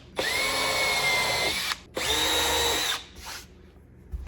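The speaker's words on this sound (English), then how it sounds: "Pre-drill." A power drill pre-drills screw holes for a wall-mounted battery storage rig, running in two loud, sustained whines of about a second and a half each, then a brief softer spin-down.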